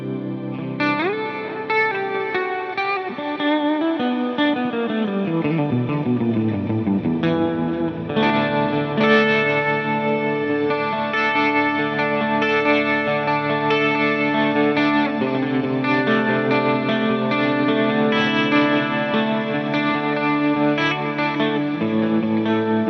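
Electric guitar through a shimmer pitch delay effect with the mix turned up, sustained chords blooming into bright, pitch-shifted echoes that swirl and rise, a gliding descending sweep early on, then a dense wash of layered repeats throughout.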